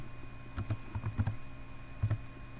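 Keys on a computer keyboard tapped in short, quick clusters as a password is typed, light and close with a brief pause before a final pair of strokes, no talking.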